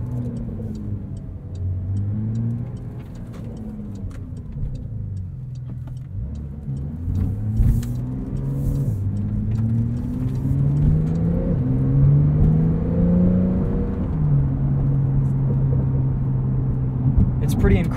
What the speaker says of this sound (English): You get a little bit more exhaust action in sport mode,